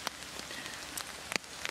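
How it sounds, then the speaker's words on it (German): Rain easing off during a summer thunderstorm in an open field, soft steady patter with scattered close drops ticking on a surface, faint and without voices. "Der Regen wird gerade ein bisschen weniger."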